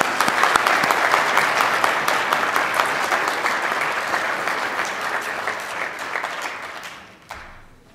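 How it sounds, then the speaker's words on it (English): A large audience gives sustained, dense applause at a 2022 graduate recognition ceremony, loud and even for several seconds before tapering off and ending abruptly. "One more round of applause for Liam, please."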